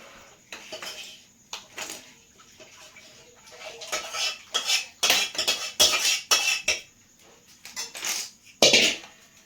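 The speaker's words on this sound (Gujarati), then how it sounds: "આપણે આને એક ધારો હલાવવાનું છે." Khandvi batter being stirred continuously in a pan, with a spoon or spatula scraping and clinking against the metal in irregular bursts, fairly close and clear, with no talking.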